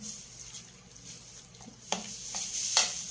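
Chicken longganisa ingredients, ground meat with seasonings and cheese, being stirred and mixed in a bowl with a spoon: soft, close scraping and squishing strokes with a few sharper clinks, steady and moderately quiet, no voices.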